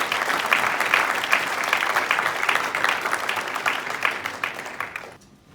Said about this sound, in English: Please join us in giving her a round of applause.